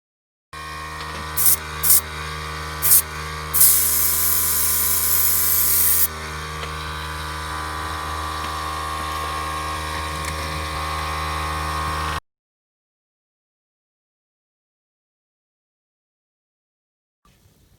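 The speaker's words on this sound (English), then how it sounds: "We're going to give it a coat of the dark brown, and I'm going to use the airbrush" Airbrush spraying dark brown paint onto the deck of a Lindberg Mayflower model ship, a steady close hiss with a few short bursts at the start, running continuously for about twelve seconds before cutting to silence.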